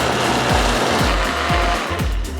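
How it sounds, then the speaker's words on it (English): A kitchen blender whirs steadily at high power through potato leek soup, a loud continuous motor drone with a few rhythmic dips and surges as the thick mixture churns, no voices. "we're going to switch it on and blend it"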